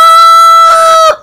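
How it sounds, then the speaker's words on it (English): A single rooster crows loudly and close by, a long sustained cock-a-doodle-doo that breaks off sharply at the end. "roosters crowing."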